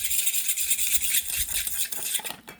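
A spoon stirs cake batter with a little oil in a bowl, giving a steady run of close, bright scraping and clinking against the bowl sides with no talk.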